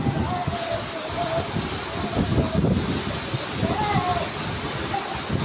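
Strong typhoon wind roars across an open roadside in the Philippines, a steady broadband rush with gusty surges and faint, brief voices in the background.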